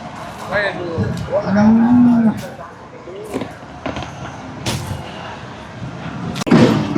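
A buffalo lets out a deep, drawn-out moo at close range at the Erragadda buffalo market, amid background chatter and a sharp bang near the end.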